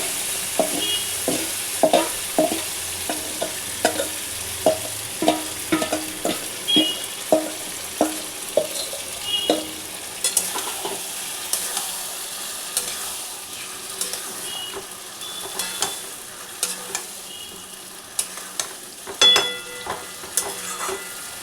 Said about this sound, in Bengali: এবার আমি এর মধ্যে মাংসটা দিয়ে দিচ্ছি।